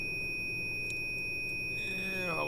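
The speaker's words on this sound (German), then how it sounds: "es blinkt und piepst" Door-closing warning beeps from a train in Train Simulator 2016, a steady high electronic tone running over low cab rumble, with a rising chime-like pattern near the end.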